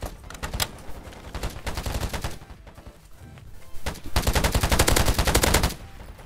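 Gunfire in an early-access Battlefield-style shooter, with rapid bursts of automatic fire in quick rhythmic volleys, a short lull, then a longer sustained burst, loud and close with no talk over it.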